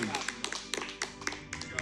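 A small audience claps and taps in a quick, uneven burst of sharp hand strikes, moderately close, with a voice running under the clapping.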